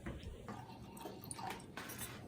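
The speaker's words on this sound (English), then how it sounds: "Pouring up our first glass of wine of the night." Trader Joe's Delicious Monster wine being poured into a glass: faint, soft liquid trickling and dripping with a few light glassy splashes, quiet and close, without speech.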